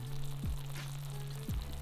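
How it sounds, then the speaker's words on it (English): Soft, steady sizzling of pasta frying in a pan, quiet and continuous, with a low hum and a couple of brief dull clicks. "Listen to that sizzle."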